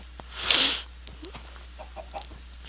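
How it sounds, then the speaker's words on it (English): A single short cluck from a chicken in Minecraft, crisp and fairly close, followed by faint scattered game ambience. "There's a chicken, but we don't want a chicken."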